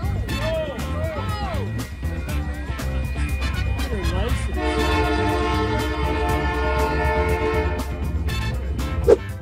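A train horn sounds in sustained, tonal blasts while a train rolls past with steady rumbling and rhythmic clatter, captured near a road crossing, alongside other varied sounds and a sharp thump at the end.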